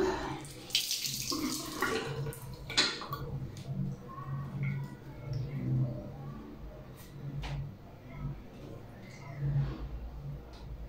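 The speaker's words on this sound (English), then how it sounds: "let me take my sponge and wash my face" Water runs steadily from a tap while someone washes their face with a sponge, a continuous close splashing flow with light handling noises.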